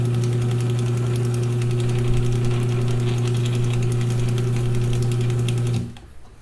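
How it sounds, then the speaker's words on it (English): A mechanical drive whirs steadily with a low hum and rapid clattering chatter, running evenly before winding down at the end. "That's how a chain drive should sound. That's music to my ears."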